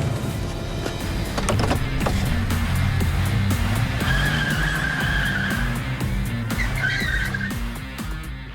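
A car drives up onto an empty runway and skids to a stop, its engine rumbling close and loud with tires squealing in long sliding screeches before it settles.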